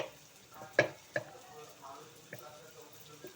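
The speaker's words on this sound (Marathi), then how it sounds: "कांदा हलवायचा कांदा बघायचा भाजला का" Chopped onion fries in a pan while it is stirred, a faint, steady sizzle broken by a few sharp scrapes and clicks of the spoon against the pan.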